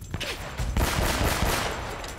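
Rapid pistol gunshots sound in Uncharted: Drake's Fortune as a burst of several sharp, close cracks within a couple of seconds, overlapping into a dense volley.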